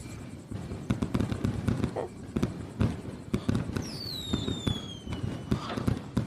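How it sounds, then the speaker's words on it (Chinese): Fireworks burst in rapid succession during a festive night in an ancient royal court, with dense crackling pops and several whistling rockets streaking through, loud and continuous throughout. "你看烟花，"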